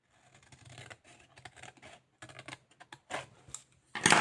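A paper trimmer slices through paper for a Christmas craft, giving a series of short, irregular scraping and snipping bursts separated by quiet gaps. The sharpest, loudest cut comes at the very end.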